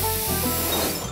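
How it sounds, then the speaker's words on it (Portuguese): Gold spray paint hisses from an aerosol can in a steady, broad rush that holds for about a second, close and fairly loud, with no voices. "Hora da tinta spray dourada."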